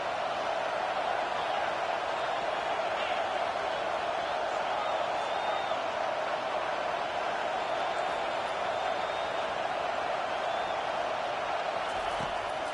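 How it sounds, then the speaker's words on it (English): A home crowd at an LSU versus Oklahoma football game roars steadily during a third-down defensive stand, a dense, constant stadium wash at high volume with a commentator's voice faintly beneath. "Here comes this home crowd as the defense tries to get off the field on 3rd down."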